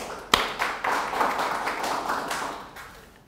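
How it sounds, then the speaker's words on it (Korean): A church congregation claps during a Wednesday worship service, a dense stretch of applause that builds after a sharp opening hit and then fades out within a few seconds. "하나님께 영광의 박수를"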